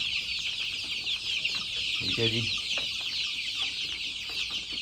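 Dense, continuous high peeping from a crowd of desi chicks fills the Grewal Poultry King farm near Sherpur in Sangrur district, with someone speaking briefly midway.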